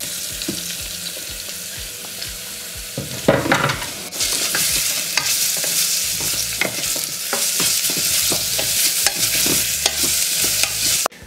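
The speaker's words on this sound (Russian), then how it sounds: "Пока жарится лук и чеснок" Steady crackling sizzle of onion and garlic frying in a pan, with the scrape and clatter of stirring breaking through now and then.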